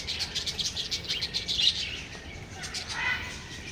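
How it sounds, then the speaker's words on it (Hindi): Small birds chirp and tweet in repeated bright calls at an outdoor zoo, moderately close, with soft ambient background and no talk. "ये देखिए ये चिड़िया है जो कि आपके शहरों में, आम शहरों में भी मिल जाएगा।"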